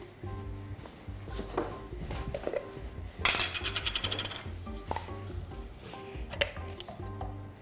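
Oil melts and begins to sizzle in a second frying pan on a gas stove, a quiet crackle with a louder sputtering burst midway, mixed with light metallic clinks and clatter of cookware.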